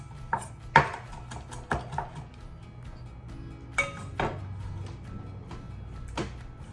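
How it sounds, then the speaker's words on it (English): A knife chops fresh garden parsley, giving sharp, uneven taps and clacks that come in short bursts with small pauses between them, close and moderately loud, with no talking. "2 tablespoons of fresh parsley from the garden that I'm going to chop"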